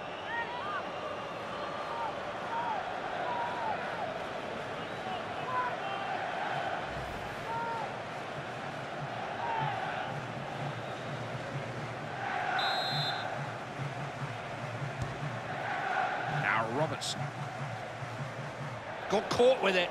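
Crowd noise at Wembley Stadium in the FIFA 17 video game during an England versus Scotland match: a steady, distant roar that swells at moments, continuous beneath a commentator's voice.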